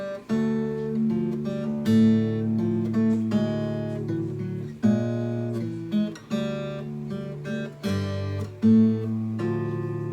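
A fingerstyle guitar melody picked over ringing bass notes, close and clear, with each phrase sustaining before the next pluck.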